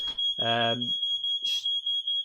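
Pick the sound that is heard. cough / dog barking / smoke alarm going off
smoke alarm going off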